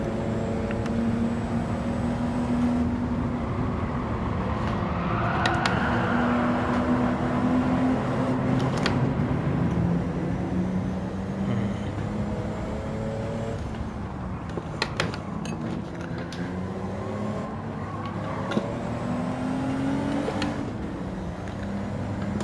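Car engine in Gran Turismo 7 driven with a manual shifter, a continuous drone rising and falling in pitch as gears change, with brief clicks over the steady engine note.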